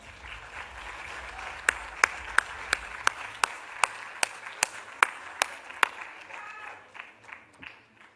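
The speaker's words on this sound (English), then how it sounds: "give them a clap" A small audience at a finance conference gives a short round of applause, a scattering of distinct hand claps that build briefly and then thin out into a few final claps.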